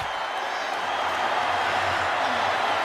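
Super Bowl LIV stadium crowd of Kansas City Chiefs fans roaring in the closing seconds, a steady dense wash of cheering and applause that fills the whole stretch without letup.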